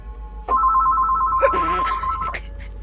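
A telephone rings with a steady electronic trill, one sustained ring lasting a couple of seconds over a low constant hum, with faint voices murmuring underneath.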